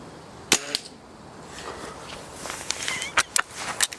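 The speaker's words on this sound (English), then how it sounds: "So I'm going to shoot 5 into the top left-hand dots." A Weihrauch HW97 air rifle fires pellets at a paper target, a handful of sharp, close snapping shots spaced irregularly across a few seconds in an otherwise quiet setting.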